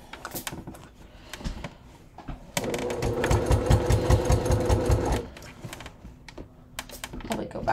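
A sewing machine stitches around the circular base of a leather crossbody bucket bag in a burst of rapid rhythmic needle thumps lasting about three seconds, framed by quieter handling clicks and pauses.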